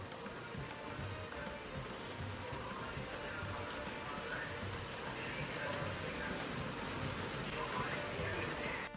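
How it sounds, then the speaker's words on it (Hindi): Steady rain falls continuously, a dense even patter with no breaks, heard alone at moderate distance. "इसके बारिश भी देख लो कितनी मस्त हो रही है।"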